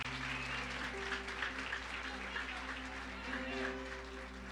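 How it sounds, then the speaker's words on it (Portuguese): A church congregation at a conference in Brasília applauds steadily throughout, a dense clapping wash over sustained tones that suggest music playing underneath. "Se você puder, aplauda Jesus um pouco mais forte"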